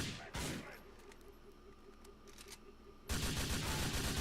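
Gunfire in Grand Theft Auto 4: a loud burst at the start, faint scattered shots and clicks through a quieter stretch, then a dense, loud volley of rapid shots to the end.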